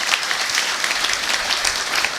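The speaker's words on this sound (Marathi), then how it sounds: "आमच्या बच्चे मंडळी गोपाळांसाठी सगळ्यांनी टाळ्या वाजवा बरं." An audience at a devotional lecture series breaks into steady, dense applause, many hands clapping together at a moderate distance for a couple of seconds without any voices.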